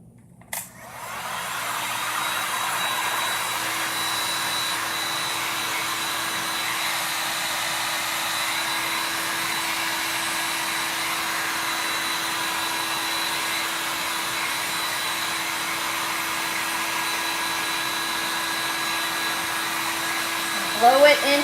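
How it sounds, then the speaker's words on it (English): A heat gun blows steadily over resin poured on pumpkin-shaped art, a loud constant whir that runs unbroken for about twenty seconds after a short click at the start. "Going to hit it with the heat gun one more time"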